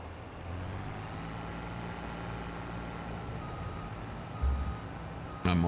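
A truck in a British farming video game reverses to unload a combine, giving a continuous engine rumble under a droning tone. A louder burst comes near the end.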